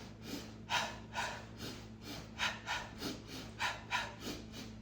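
Rhythmic breathing in a breathing-technique demonstration for running, with about ten close, evenly paced breathy huffs over a constant low background hum.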